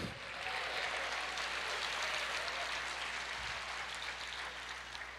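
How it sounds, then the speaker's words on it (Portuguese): Congregation applauding during a church service, a faint, distant, even rush of many hands clapping that holds steady throughout with no voices above it. "aplauda ao Senhor"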